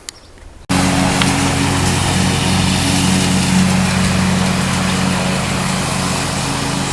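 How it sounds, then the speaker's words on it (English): A lawn mower engine starts abruptly after a brief quiet moment, then runs loud and steady while mowing a yard. It keeps up a constant droning hum close by, with no voices. "There she is, mowing the yard."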